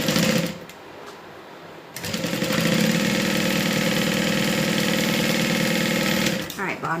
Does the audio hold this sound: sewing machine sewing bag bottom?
yes